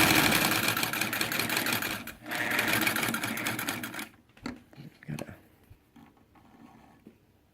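A Singer 99k sewing machine runs in a fast, steady mechanical chatter for about four seconds, briefly slowing midway, then stops, leaving quiet handling clicks and small knocks.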